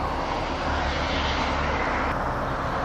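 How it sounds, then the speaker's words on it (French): The container ship August Schüle is pushed to the quay at Port Est, Réunion, with a constant, loud engine drone that holds steady throughout, with no talk over it. "ça pousse avec le moteur du bateau"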